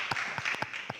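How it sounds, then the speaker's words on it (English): An audience at a local civic talk show applauds, with a steady wash of clapping and a few sharper individual claps, close and moderately loud. "Come on, round of applause for Irene."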